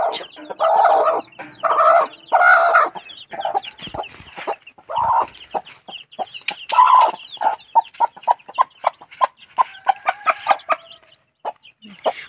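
A hen with three chicks clucks close by, first in a few longer calls, then in a fast rhythmic run of short clucks.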